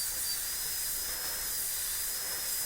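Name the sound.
dental drill with chamfer burr cutting tooth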